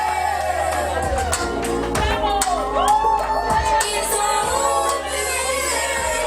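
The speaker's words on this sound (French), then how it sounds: "Vos applaudissements s'il vous plaît." Crowd cheering and shouting at a 40th birthday celebration held with a midwives' collective, a steady, loud, dense mass of voices with whoops and some clapping throughout, without any clear words.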